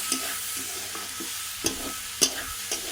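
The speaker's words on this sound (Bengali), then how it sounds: "আবার আমি ভাজা ভাজা করে নেব।" Fried rice with chaat masala sizzling in a pan, stirred with a spatula that scrapes sharply at a few scattered moments over a steady frying hiss, alone and close.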